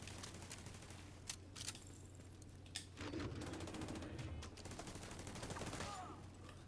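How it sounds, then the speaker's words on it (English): An automated turret in The Division 2 fires in a bank headquarters battle, with quick, faint rattling bursts and separate sharp shots breaking over a steady low hum, all fairly distant and quiet. "I'll let the turret take care of that last guy"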